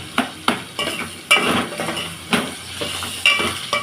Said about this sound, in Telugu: టమోటా అంతా మెత్తగా అయిపోయేంత వరకు నూనెలోనే వేయించాలి